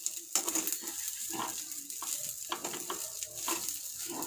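Yang Chow fried rice stirred and tossed in a hot pan, a steady sizzle under repeated scraping strokes of the spatula, close and continuous for several seconds with no talking.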